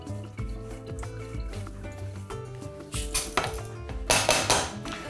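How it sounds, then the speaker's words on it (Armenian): Rice being moved into a small pot while cooking Armenian-style jeryepuk with lavash and nori, heard as clattering pot and utensil knocks with scraping and small wet shuffles, getting louder and busier near the end, with background music playing throughout. "Տեղափոխում ենք բրինձը փոքրիկ կաթսայի մեջ"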